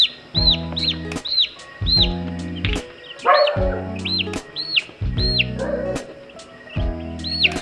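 Backyard chicks and chickens call close by: repeated high peeping chirps over deeper, rhythmic calls that pulse roughly once a second.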